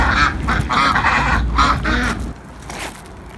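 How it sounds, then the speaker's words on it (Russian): Ducks quacking and geese honking close by in a noisy cluster, several birds calling over each other outdoors, then fading to quieter background. "утки, гуси прям на улице тусуются"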